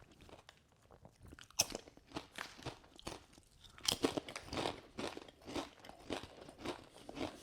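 Close, quiet crunching and chewing of Aldi salt and vinegar crisps, with a steady series of crisp bites and brittle crackles and no voices.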